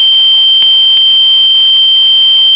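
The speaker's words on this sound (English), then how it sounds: "Home signal goes back to danger and buzzer sounds" Railway station buzzer sounding continuously, a steady loud electronic tone held without a break until it cuts off abruptly at the end.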